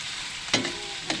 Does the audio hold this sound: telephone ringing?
no